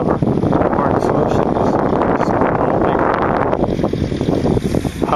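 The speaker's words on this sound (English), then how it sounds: "it's windy all over where I'm at" Strong wind buffets the microphone in a constant roaring rumble, loud and close, with gusts rising and falling throughout, while a model helicopter hovers outdoors.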